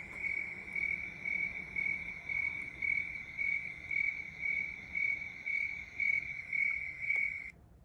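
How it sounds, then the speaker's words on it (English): A single cricket in cool weather chirps at a slow, even pace, each pulse a clear, high, steady trill repeating for several seconds near the listener over a faint hiss of background noise. "the cricket is going to slow down and his chirp is going to sound more like this"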